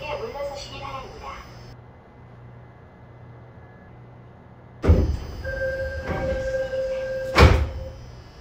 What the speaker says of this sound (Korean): 출입문 닫습니다